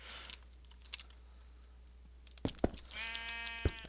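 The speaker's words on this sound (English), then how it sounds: "There's the brown sheep that keeps wandering around here." Sheep bleating in a Minecraft-style survival game world, with a couple of short bleats standing out near the end over a quiet background of other game sounds.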